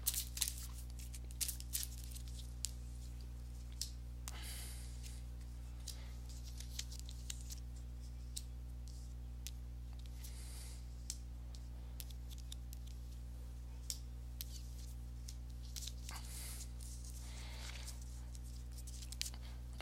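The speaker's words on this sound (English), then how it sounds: "let me go ahead and give these cards a shuffle" Tarot cards are shuffled in soft, quick riffling bursts, faint against a steady low electrical hum, with no one speaking.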